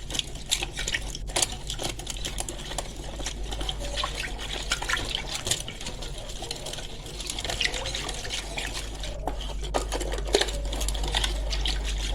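A homemade cleaning mixture with starch is stirred in cups, giving soft liquid swishes and small clinks over a steady low hum, close and fairly quiet.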